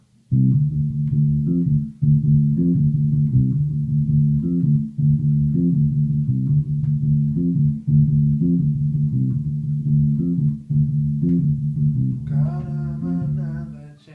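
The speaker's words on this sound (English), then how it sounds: "the bass transfers this second figure" A bass guitar repeats a slow, low riff of plucked notes in a steady pulse, alone, with brighter higher notes entering near the end.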